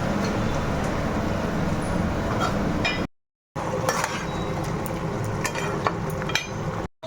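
Raw bottle gourd frying in a pan with fenugreek and nigella seeds, a steady dense sizzle with light clinks of stirring, broken by two brief gaps of silence.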